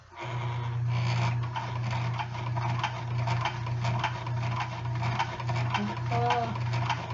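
A Montgomery Ward sewing machine stitches thick woven fabric, a continuous loud motor hum with rapid mechanical clatter running throughout, while a person speaks over it.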